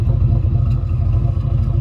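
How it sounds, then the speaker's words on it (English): A Chevy S10 pickup engine idles low and rough, a loud, close, steady rumble with a fast even pulsing and faint clatter throughout. "But listen how low she's idling right now."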